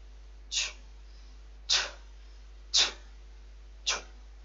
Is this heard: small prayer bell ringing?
no